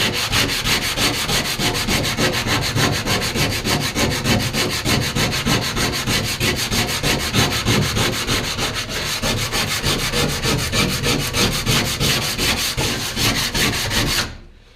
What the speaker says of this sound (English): So yeah, boring sanding.